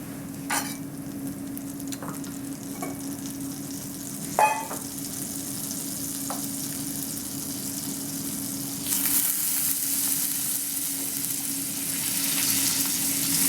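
Onions frying in a hot pan for a coq au vin garnish, a steady sizzle with occasional stirring clicks and scrapes, swelling louder and brighter toward the end.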